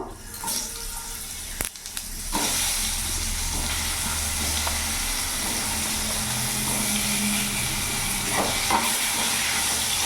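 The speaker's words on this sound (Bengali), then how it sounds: "তেলের মধ্যে আমি এখানে গোটা জিরে ফোড়ন দিয়ে দিলাম কেটে রাখা লম্বা লম্বা আলুগুলো দিয়ে দেবো" Sliced long potato pieces hit hot oil already tempered with whole cumin seeds, giving a steady, loud hiss and sizzle after a brief sharp clatter near the start, then running continuously.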